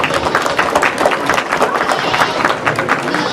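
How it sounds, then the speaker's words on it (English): Crowd applauding at a 2022 junior livestock show morning session, fairly loud, uneven clapping that rises and falls in bursts across the whole stretch, with some chatter mixed in. "Let's give a nice round of applause as they head back"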